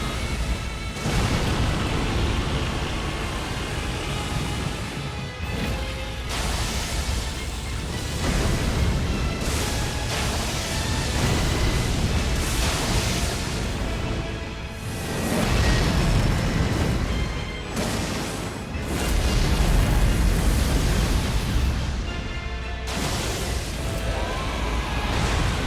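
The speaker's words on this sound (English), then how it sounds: "He explode." A big in-game explosion from an Elden Ring-style boss fight: dense, continuous booming rumble with repeated bursts and crashes, loud and full across the whole stretch, layered over game music, with no talking.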